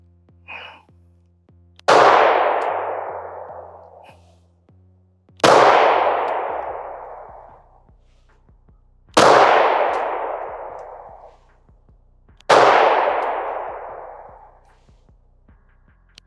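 Pistol shots ringing off steel targets while comparing a Beretta and a Taurus, four loud metallic clangs spaced about three and a half seconds apart, each decaying slowly, with nothing else in between.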